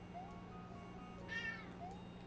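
A cat gives a single drawn-out meow, fairly close, over a quiet steady background hum.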